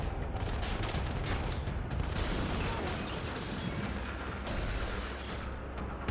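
Sustained automatic gunfire from a picked-up enemy gun in the mobile shooter Modern Combat 5, a continuous rattling fusillade with mechanical clatter, fairly loud and unbroken throughout.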